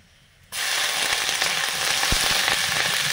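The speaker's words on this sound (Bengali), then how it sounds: "বাদাম, ভাজা বাদাম আমি আরেকটু দিয়ে একটু লাল লাল করে নিচ্ছি" After a short quiet moment, a loud, continuous sizzle bursts out as peanuts hit hot oil and keep frying steadily.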